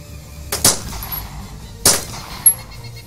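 Two sharp gunshots ring out in a video game, each a loud, abrupt crack about a second apart, followed by a fainter third pop, with no talking over them.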